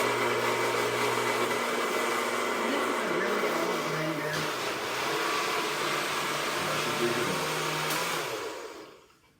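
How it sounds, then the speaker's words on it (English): A very old blender mixing eggs whirs loudly and continuously with a harsh, buzzing motor tone that shifts slightly, then winds down and stops at the end. "And this is a really old blender."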